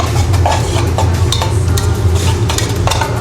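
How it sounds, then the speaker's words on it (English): Pre-fried zucchini being stirred in a pan with olive oil, a loud, close, continuous sizzle with scraping and soft knocks of the spoon as it moves through the pan. "And as we're stirring it, you see that the zucchini will break down"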